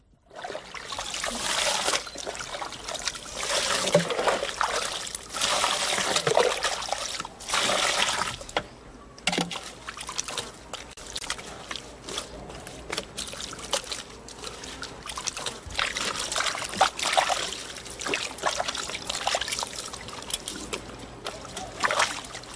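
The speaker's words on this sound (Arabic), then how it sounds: "يحمل الدباغ الجلد من طرفيه ويقوم بخض الجلد بما فيه من مسحوق ثمار القرط جيدا عدة مرات" A tanner shakes and churns leather in a basin of water, salt and qarat fruit powder, making continuous close sloshing and splashing that swells and eases over and over, with one brief lull midway.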